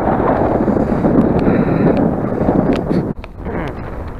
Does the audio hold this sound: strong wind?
yes